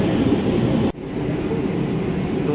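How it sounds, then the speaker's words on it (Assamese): A Kolkata Metro train runs along its track with a steady, loud rumbling roar from start to finish, briefly dipping in level for a moment near the one-second mark before the same continuous noise carries on. "আমি মেট্ৰো ট্ৰেইনত গৈ আছোঁ"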